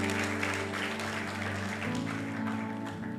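A congregation claps during a church sermon, a dense, sustained wash of applause with sustained musical tones playing underneath throughout.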